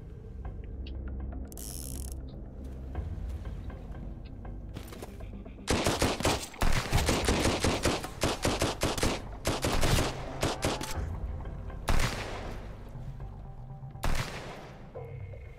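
Close-range one-shot gun in the Sunkenland survival game, with mechanical reloading clicks and ratchets followed by bursts of loud, rapid gunfire in several separate clusters, alone without talk.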